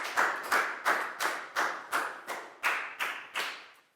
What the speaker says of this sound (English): High five and a big round of applause for Lakau, please, guys.